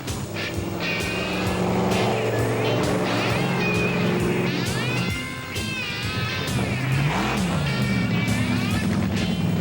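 Big monster truck engines rumble and whine at low speed on a drag strip, with shifting tonal revving and squeals, over music and a mix of background noise.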